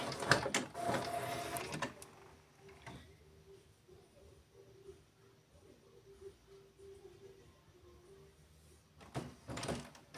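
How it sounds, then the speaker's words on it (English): An HP OfficeJet Pro inkjet printer running a color copy gives a low mechanical whir and hum with clunking at the start and end, heard close with no talk. "I'm gonna make a copy in color."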